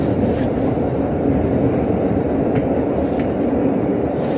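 A KRL commuter train arrives at Bekasi station with a loud, steady rumbling roar of rail noise close by, unbroken through the clip, with no talking.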